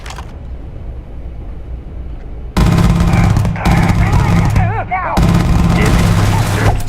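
Loud, dense automatic gunfire from the video game Starfield erupts close after a stretch of quieter ambience, with sustained bursts, brief pauses, and explosive cracks layered over the action.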